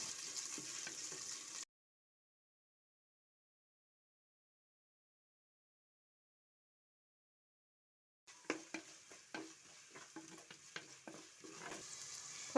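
Chopped shallots and ginger sizzle in hot oil for an Alleppey-style fish curry, a crackling fry with the scrape of stirring, cutting out abruptly into a long silence before the sizzling returns.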